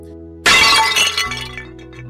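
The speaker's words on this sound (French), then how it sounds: "Le fracas de la porcelaine brisée résonna comme un tonnerre dans le palais silencieux." Porcelain vases smash on a floor in one loud, sudden crash. Bright scattering shards follow and ring out briefly as it fades, with no voices.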